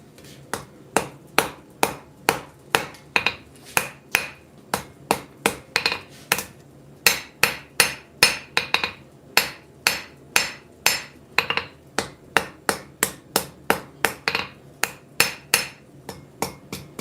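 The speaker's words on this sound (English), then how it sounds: "hit it nice and hard and then flatten it." Hammer blows forging 1/8 inch thick steel in a workshop: a long run of sharp, ringing metallic strikes, close and loud, falling roughly one to two per second with short pauses between bursts.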